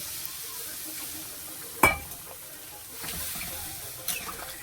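Water poured into a fried spice paste for a fish curry in a pan: a low sizzle, a sudden sharp burst as the water hits, then bubbling and a couple of later stirring knocks.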